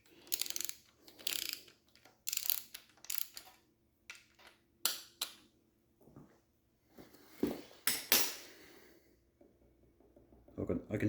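Mechanical knocking and clicking from end float play in a Triumph TR6 camshaft during an engine rebuild, heard as irregular close taps and ratchet-like clacks in bursts, with a few quieter gaps between them.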